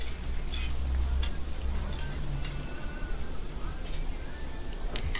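Green chilies sizzle steadily in a frying pan for chow mein while a utensil scrapes and stirs them, giving a continuous close frying hiss with light scraping ticks.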